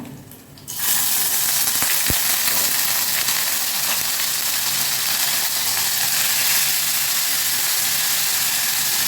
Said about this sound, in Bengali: এবার এতে দিয়ে দেবো একে একে পেঁয়াজ রসুন বাটা